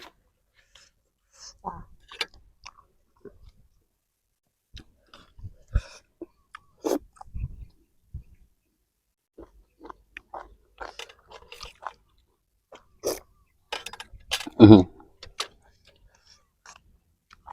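Intermittent crunchy bites and wet chewing on spicy Thai chicken feet salad with wide rice noodles and fresh vegetables, close and sporadic with quiet gaps, one louder crunch near the end.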